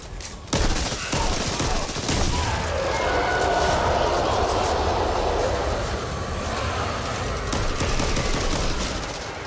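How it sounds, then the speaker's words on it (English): Gunfire erupts in the video game Back 4 Blood, a sharp shot followed by sustained rapid bursts and a roaring rumble over several seconds, with players talking over it. "Take a few pot shots."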